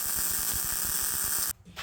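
An angle grinder cuts through rusted metal on a Jeep, a steady close harsh grinding hiss that stops abruptly near the end.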